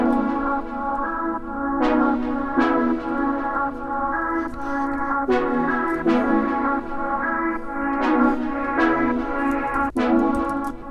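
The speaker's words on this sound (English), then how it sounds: "an interesting ARP style vocal pad" Arpeggiated synth-style pad built from chopped vocal samples, a sustained harmonic bed with repeating plucked note onsets and a shifting chord progression, steady and full without any talking.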